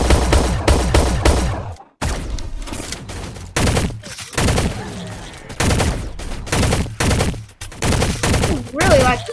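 Rapid bursts of cartoonish gunfire in the online egg-shooter game Shell Shockers, firing in quick repeated volleys with brief pauses between, loud and close, mixed with in-game effects.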